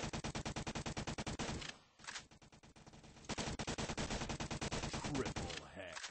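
Rapid automatic gunfire in the Roblox game Hex during a team skirmish comes as dense, evenly spaced bursts of shots, broken by a brief gap before the firing resumes just as thick.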